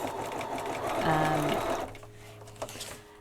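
A sewing machine with a top stitching needle runs in a steady, whirring stitch for under two seconds, close and fairly loud, then stops, leaving faint room noise.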